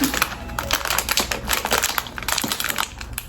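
Crinkly plastic snack packaging rustles and crackles continuously, close by, with sharp crunchy bursts as it is pulled open.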